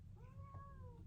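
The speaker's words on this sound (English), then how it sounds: "My cat." A pet cat gives one drawn-out, rising-then-falling meow, quiet and close, with no talking over it.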